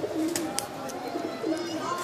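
A pigeon gives soft, low cooing calls, two short rolling coos close by against quiet background noise, with a few faint higher chirps mixed in.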